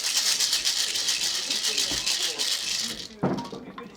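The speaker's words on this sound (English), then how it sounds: "lots of maracas doing stirring things" Bright, continuous shaking rattle like maracas, moderately faint, ending with a sharper accent near the close.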